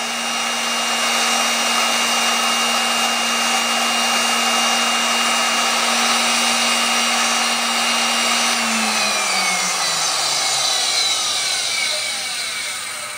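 An old tool post grinder wheel spins on a lathe while grinding an ER40 taper, a loud steady high-pitched whine that holds for seconds and then winds down toward the end.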